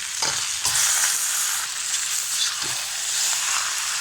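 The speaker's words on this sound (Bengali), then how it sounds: "চিকেন আর ডিম দিয়ে ভালোভাবে মিশিয়ে নেব।" Chicken, egg, noodles and pasta crackle loudly in a frying pan, with a few dull scrapes and knocks of a spatula stirring them through the steady sizzle.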